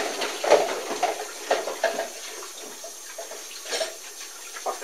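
Tap water running while hands are washed in a kitchen sink, a steady hiss of flow with splashing bursts as hands move under it, close and moderately loud, no talk.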